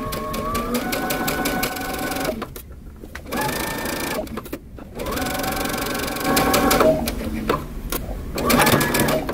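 A home sewing machine backstitches and sews a sleeve seam in fast, loud bursts with two brief pauses, while someone talks over it now and then.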